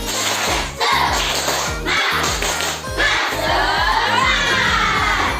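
Primary school children in an Indonesian classroom doing a rhythmic group clap chant, repeated patterned bursts of clapping with shouted voices, loud and close.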